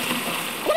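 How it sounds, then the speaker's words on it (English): Water splashes over the Buddy ragdoll in the mobile game Kick The Buddy: a brief, close wet splatter that ends in a short rising electronic tone. "Oh, I'm water everywhere. I'm being liquidated."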